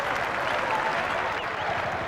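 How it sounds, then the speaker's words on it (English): Cricket crowd applauding at the end of the West Indies innings in a 1990 Test match against England, a steady dense wash of clapping throughout, distant and uniform with no voices standing out. "How they deserve their applause."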